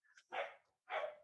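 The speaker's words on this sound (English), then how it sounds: "That's my dog." A dog barks twice in quick succession, sharp and somewhat distant, the two barks a little over half a second apart with a brief yip before them.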